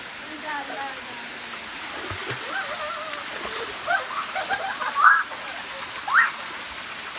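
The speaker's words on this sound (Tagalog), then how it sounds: "may sapa dito" A shallow stream in a rural farming area, water flowing and splashing softly in the background beneath voices talking and calling out nearby.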